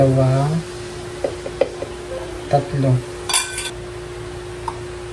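A spoon scoops chili powder, onion powder and salt into a bowl while making crispy kangkong chips, giving a few light metallic clinks and scrapes, close and fairly quiet, with a voice speaking briefly at the start.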